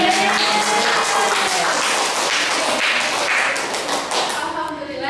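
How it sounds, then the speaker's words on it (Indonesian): Classroom applause during a microteaching chemistry lesson, loud dense clapping from a group of students close by, sustained throughout and fading slightly at the end. "tepuk tangan untuk kita semua"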